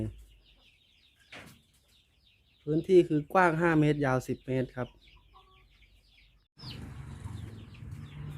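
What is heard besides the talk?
chickens clucking in a coop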